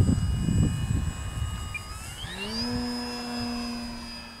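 An Avios Grand Tundra RC model airplane flies in strong wind, its electric motor whining steadily and rising in pitch as it passes, over a low blustery rumble of wind, with no talk.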